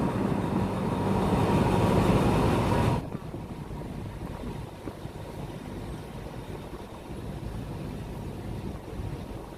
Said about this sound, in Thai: สำหรับรถบำรุงทางคันนี้สามารถที่จะวิ่งได้ บนพื้นผิวธรรมดาและรางรถไฟค่ะ